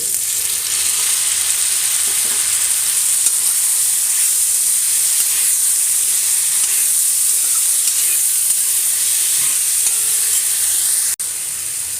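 A tomato fries in a pan for a Tamil drumstick-leaf chutney, giving a loud, dense, continuous sizzle and hiss with no talk.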